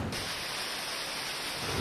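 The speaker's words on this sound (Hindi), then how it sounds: "हिमाचल प्रदेश की राजधानी शिमला में जबरदस्त बारिश हुई।" Heavy rain pours in Shimla, Himachal Pradesh, a dense steady hiss of falling water with no distinct thunderclap, fairly faint and unbroken throughout.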